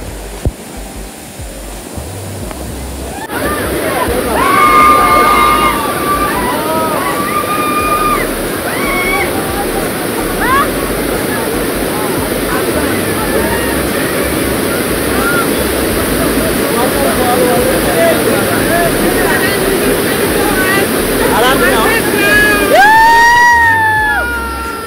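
Monsoon waterfall at Malshej Ghat roaring as a steady, loud broadband rush throughout, with voices and chatter of people nearby talking over the constant water noise.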